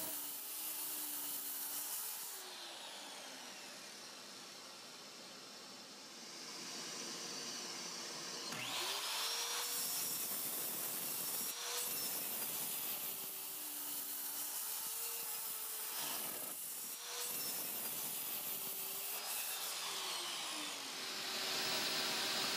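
Power saw rip-cutting 22-inch lengths of 2x4 lumber in a workshop, a whining rasping cut that swells and drops with several distinct passes and brief pauses between them, fairly loud and alone.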